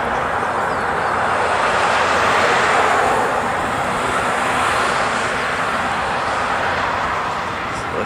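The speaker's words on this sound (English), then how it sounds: "I can just barely make out the A380 right now" An Airbus A380 near Honolulu airport gives a continuous broad jet roar that swells slightly and then eases, fairly loud and steady, with faint background voices.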